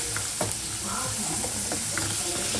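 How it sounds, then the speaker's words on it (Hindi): Potatoes frying in hot oil in a Hyderabadi home kitchen, cooked to add to a korma: a steady, close sizzle and hiss throughout, with a few soft clicks of stirring. "ये आलू तल रही हूँ कोरने में डालने।"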